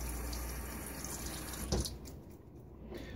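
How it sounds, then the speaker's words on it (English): Water trickles and splashes from a tap while being added to Williams mug shaving soap, faint and steady with one brief louder splash. "I'm going to keep adding water."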